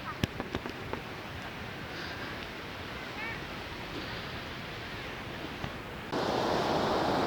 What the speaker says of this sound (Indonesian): saya sekarang udah ada di ujung Pantai Kuta, ujung paling utara